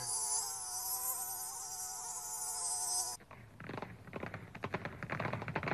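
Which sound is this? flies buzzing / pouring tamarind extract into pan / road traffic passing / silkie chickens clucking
flies buzzing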